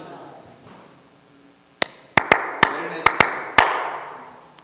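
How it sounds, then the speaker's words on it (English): Seven sharp, loud hand claps ring out alone in a quiet room, one, then a quick cluster, then spaced singles, used to mark timing before recording a spiritual talk. "I'm doing my timing clap so that I can sync all these recording devices."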